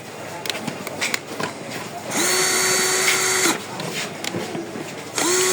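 Short bursts from a Makita cordless rotary hammer drill whir up loudly and close with a high, steady motor whine, separated by brief pauses with clicks and handling noise, and someone speaks between the runs.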